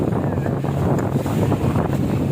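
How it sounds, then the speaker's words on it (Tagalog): Strong wind buffets the microphone in a loud, continuous roar, with the wash of open water underneath. "malakas pa namang hangin ngayon."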